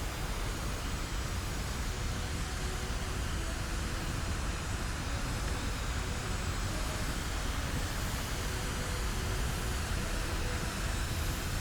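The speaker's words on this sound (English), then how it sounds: "Got a hell of an engine behind it." A rocket engine roars steadily and loudly at launch in the game Kerbal Space Program 2, a dense, unbroken rumble that fills the whole stretch with no voices over it.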